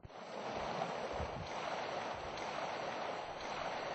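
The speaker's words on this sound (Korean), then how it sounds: "끊임없이 부딪히는 파도는" Sea waves crash against rocky cliffs on the coast of Geogeumdo island, a faint, continuous surging wash of water with no voices.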